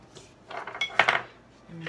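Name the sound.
scraping out a container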